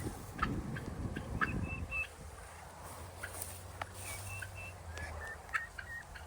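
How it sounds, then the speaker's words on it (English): Wild turkeys in a backyard give short, faint gobbling and clucking calls at a distance, scattered over a steady outdoor background with insects buzzing and a low rumble. "Not just turkeys, wild turkeys."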